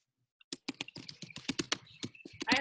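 Rapid clicking keystrokes on a computer keyboard during a live online Q&A call, a string of sharp, irregular taps that come close together, fairly close to the mic and moderately loud.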